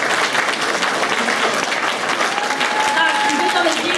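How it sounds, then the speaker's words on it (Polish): Steady, dense applause from an audience greeting a children's carol group, young performers from Przyłękowo placing third in a Christmas pastorałka contest; continuous clapping at even loudness throughout, with a faint whistle-like tone partway through. "Wielkie brawa"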